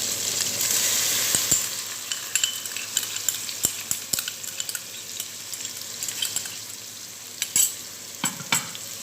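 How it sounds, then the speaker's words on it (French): A spoon stirs meat mixed with tomato paste and water in a pot, giving soft scraping and a light sizzle. Occasional clinks and taps stand out against quiet background hiss, with no talking. "Et je mélange comme d'habitude."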